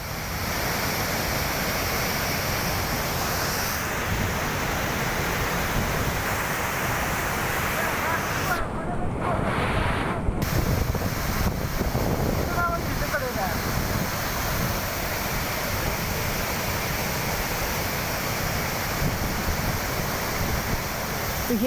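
Floodwater rushes across roads turned into rivers during heavy rain in Maharashtra, a loud, unbroken roar of churning water that stays constant and close throughout.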